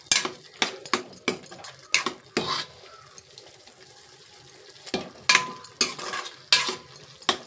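A spoon scrapes and clinks against a pan while fish curry is stirred back and forth. The sharp metallic knocks come close and in irregular bursts, with a quiet gap in the middle and soft cooking sizzle beneath.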